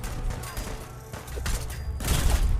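Energy weapon fire in Fallout 4 during combat, a rapid burst of crackling shots and thumps growing louder toward the end, dense and close.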